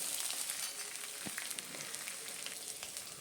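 Urad dal and chopped ginger sizzling in hot oil, a quiet, steady frying crackle with scattered small pops throughout.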